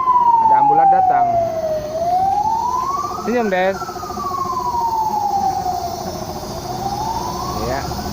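An ambulance siren passes outside a vehicle workshop where a minibus is being tuned up. Its wail rises and falls in long sweeps over a steady background hum, with brief talking nearby.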